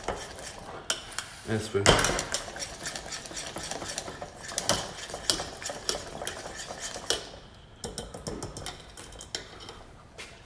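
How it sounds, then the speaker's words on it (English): A whisk beats a butter mixture in a bowl for caramel egg cheesecake, giving a steady run of quick metallic clinks and scrapes against the bowl, close and fairly busy, with a few brief spoken words. "we whisk it together until the butter melts"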